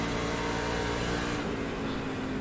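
Race car engines roar continuously at Iowa in a NASCAR racing video game, a loud steady drone of oval-track cars with no talking over it.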